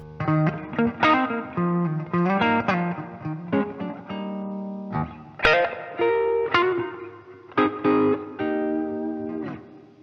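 A lightly overdriven Gibson electric guitar with its volume backed off picks short phrases and chords with gaps between them. It sounds a bit softer and cleaner, and nobody speaks.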